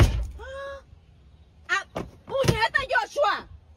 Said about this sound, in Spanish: ¿En serio cerraste la puerta, Joshua?